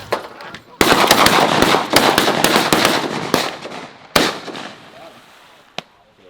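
Shotguns fire at geese during a goose hunt over a cattle pond: a loud, close, rapid volley of overlapping blasts, then a few spaced single shots fading out, with voices heard now and then.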